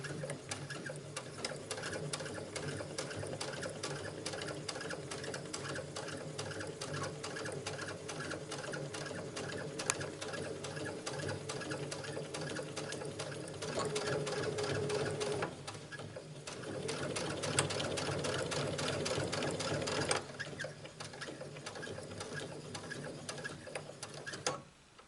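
Steady machine stitching runs the full length as a sewing machine sews along the stitch line of an espadrille, a dense rapid mechanical rattle that grows louder in the middle stretch, with no talking.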